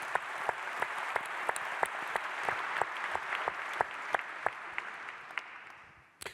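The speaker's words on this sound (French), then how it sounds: "Je vous propose d'applaudir pour l'encourager dans la mission qui est la sienne." Audience clapping at a round table discussion, a sparse steady patter of individual claps from a modest crowd, fairly close, fading out at the end.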